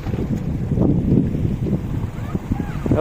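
A boat passes on the water at Munampam as a low, rumbling drone buffeted by wind on the microphone, with voices talking nearby.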